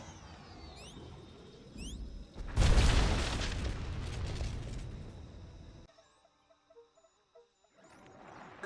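Starship weapons fire and explosions in the SWTOR space combat game: a sudden loud blast erupts, then a sustained roaring burst fades into sparse electronic beeps, with whirring sounds before and after.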